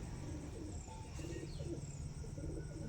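Pigeons coo softly and repeatedly over a steady low hum, a few faint chirps mixed in, fairly quiet and without talk.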